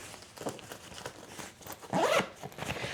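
A zipper on a hiking bag is drawn in a series of short rasping pulls, close up, ending in one longer, louder zip near the end, with no talking.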